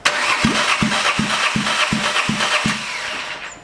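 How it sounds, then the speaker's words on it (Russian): A cold Skoda Fabia engine cranks over without starting during a compression test, about eight even, rhythmic pulses over a steady starter whir, close and loud, then winds down. "Замер компрессии на холодном двигателе."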